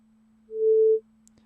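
Two synthesized tones with EQ filtering out the fundamental: a steady low sine hum runs throughout while a brighter, louder tone sounds alone for about half a second in the middle, then stops.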